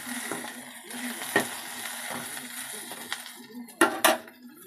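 A spatula stirs okra stir-fry with green chilies and chili powder in a pan, making light scraping clinks and scattered metallic taps close by, with two sharper knocks near the end.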